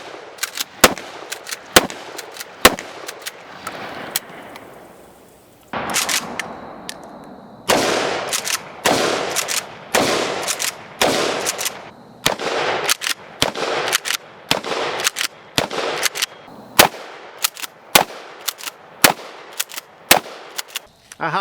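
Mossberg 590 Shockwave 12-gauge shotgun with a 14-inch barrel firing on a range: loud, sharp blasts in irregular bursts, some spaced apart and others in quick succession, with no talking.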